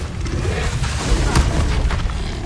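A Confringo blast spell exploding in Hogwarts Legacy, a loud booming impact with a sharp crack midway amid ongoing rumbling combat noise.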